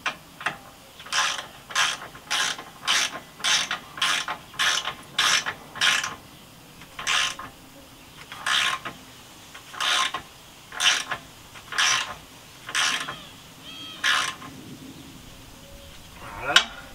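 Ratchet wrench tightening the rear shock absorber bolts on a Renault Koleos, a run of quick, evenly spaced clicking bursts with short pauses between strokes, close and clear.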